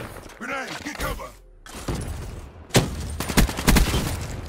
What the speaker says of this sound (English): Grenade, get cover.